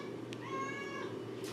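A single short cat meow, faint and a little distant, sounds over a low steady background hum in an indoor soap-making workspace.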